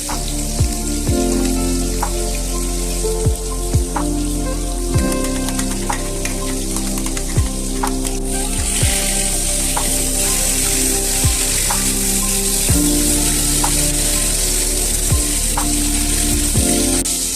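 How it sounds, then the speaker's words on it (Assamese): Fish sizzling and spitting steadily in hot oil in a pan for an Assamese fish and eggplant curry, a dense crackling hiss with scattered sharper pops throughout, close and continuous with no talking. "মাছখিনি ফ্ৰাই কৰা হৈ গ'ল"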